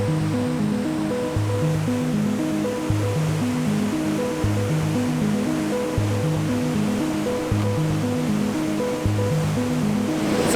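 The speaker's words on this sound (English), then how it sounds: "we can already see the next waterfall up ahead" A waterfall on a Labrador river rushes in an unbroken, even roar that stays loud throughout, with a steady tonal pattern layered over it.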